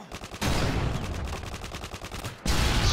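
Automatic gunfire in the Modern Warfare 2 multiplayer map Estate, loud sustained bursts of rapid shots with a brief pause near the start and a fresh burst at the end.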